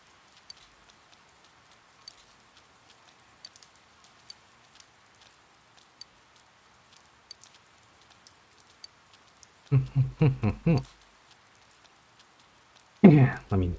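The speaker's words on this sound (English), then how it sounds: "Ah, rain again." Steady rain pattering on a surface, a soft continuous hiss with scattered ticking drops, heard alone for most of the stretch before two short bursts of nearby talking break in near the end.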